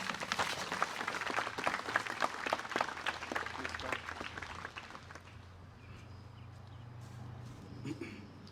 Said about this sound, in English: Please get a applause for the kids.